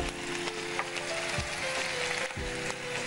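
Ginger and garlic paste fries in a hot pan with a steady, close sizzle and a few soft knocks of stirring, all at an even level throughout.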